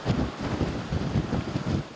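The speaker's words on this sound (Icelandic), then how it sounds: "Það hefur verið gríðarlega hvasst hérna á Kjalarnesi í dag" Strong gale blowing across Kjalarnes in Iceland, a steady roar of wind buffeting the microphone with gusty low rumbling surges and no voices.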